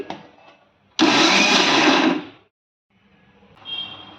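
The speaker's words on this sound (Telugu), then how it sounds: "ఇవి ఒక మిక్సీ జార్లో వేసుకొని కచ్చబెచ్చగా పేస్ట్ చేసుకోవాలి" Mixer grinder blending large chopped onions into a coarse paste, a loud motor whir bursting in for about a second and a half, then stopping, followed by a brief quieter whine.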